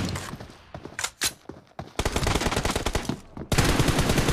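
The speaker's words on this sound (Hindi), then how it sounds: "हमारे रेड टीम के प्लेयर काफ़ी जोश में फायर करते हुए" Rapid automatic gunfire from a video game battle crackles in dense bursts, with short gaps and single shots at first, then long sustained loud volleys near the end.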